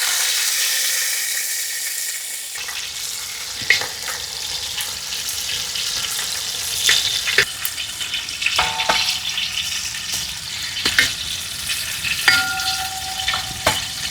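Sliced onions fry in hot oil in a pan with a loud, close crackling sizzle. A spoon stirs and scrapes through them again and again, sending out clustered splutters.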